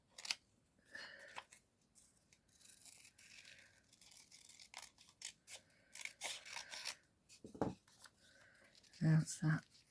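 Scissors cutting around a paper craft piece, a series of close, crisp snips in uneven bursts with quiet pauses, while someone talks softly in between.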